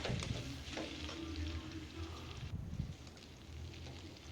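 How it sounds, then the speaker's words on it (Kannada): Bitter gourd pieces fry in a pan with a steady, close sizzle and occasional soft stirring scrapes, continuous throughout with no voices. "ನೋಡಿ ಇವಾಗ ಕಲರ್ ಸ್ವಲ್ಪ ಚೇಂಜ್ ಆಯಿತು ಇನ್ನೂ ಸ್ವಲ್ಪ ಹೊತ್ತು ಬೇಯಿಸೋಣ"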